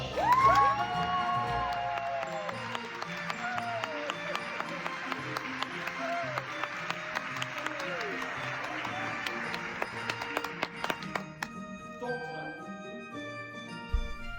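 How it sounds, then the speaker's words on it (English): An audience at a university graduation ceremony applauds and cheers for a doctoral degree recipient, sustained clapping with whoops and raised voices that fades toward the end. "You heard the claps."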